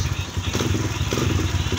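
A Kawasaki KLX150 dirt bike with a suspected valve clearance problem running just after a push start, a steady close engine chug with rapid uneven putter throughout.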